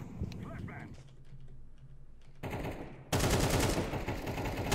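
Gunfire in Counter-Strike 2 during a hostage round: rapid bursts of shots from the player's rifle, loud and dense in the final seconds, following quieter game ambience and soft clicking.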